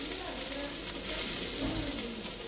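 Fish frying in a skillet, giving a dense, steady sizzle close to the pan that fills the whole stretch, with faint voices under it.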